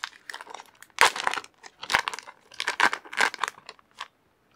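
Yu-Gi-Oh Rising Rampage booster pack being torn open and its foil wrapper crinkled, close-up bursts of sharp crackling and tearing in quick uneven clusters before it goes quiet.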